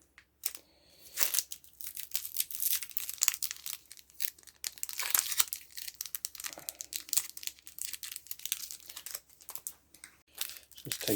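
Small, thin game cards pulled out of crinkly plastic packaging, with close rustling, crumpling and tearing sounds in uneven bursts and a faint voice in the background.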